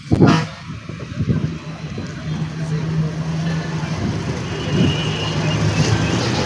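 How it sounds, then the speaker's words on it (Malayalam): A bus pulls forward after starting and swings around a roundabout, its engine giving a steady low rumble over road noise, with brief voices early on. "നമ്മുടെ ബസ് സ്റ്റാർട്ട് ചെയ്ത് മുന്നിലേക്ക് എടുത്തിരിക്കുവാണ്"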